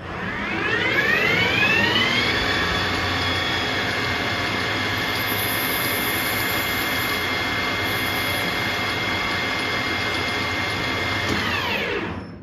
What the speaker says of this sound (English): let's take a look at parting this titanium off at 1200 RPM